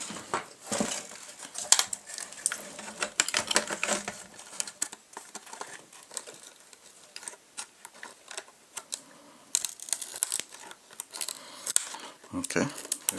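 Scissors used as makeshift pliers on small amplifier parts during a from-scratch build make irregular sharp metallic clicks and taps, close by.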